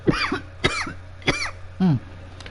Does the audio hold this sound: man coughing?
yes